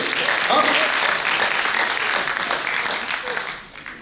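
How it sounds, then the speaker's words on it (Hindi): Loud, dense applause from a large audience at a poetry recital fills the room, holding steady before gradually fading toward the end. "तो जोरदार तालियां आप लोग उठाइए"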